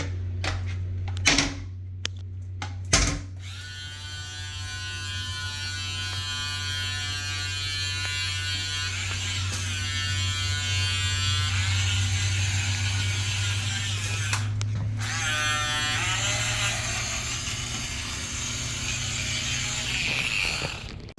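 A steady mechanical whirring hum from a small electric sprayer disinfecting plastic and carpets runs almost without a break, with a couple of sharp clicks at the start.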